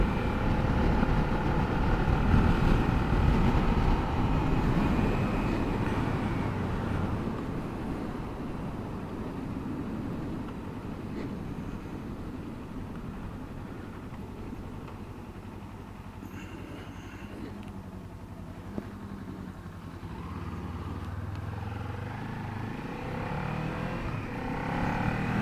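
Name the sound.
2018 Kawasaki Ninja 400 motorcycle riding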